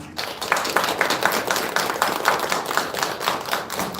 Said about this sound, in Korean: 우리 인사하실 때 한 번 더 큰 박수로 환영해 주시기를 바랍니다.